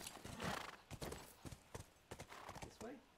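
Horse hooves clip-clop in The Last of Us video game, a run of sharp, fairly close hoof strikes in an uneven gait, with a whinny early on and a person talking over the top.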